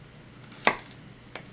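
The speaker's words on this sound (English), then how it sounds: "for those of us who are not very good at chopping, do we have to cut everything so small?" A knife chops food on a cutting board during kitchen prep for a roast turkey: one sharp, close chop followed by a fainter second chop, alone with no talking.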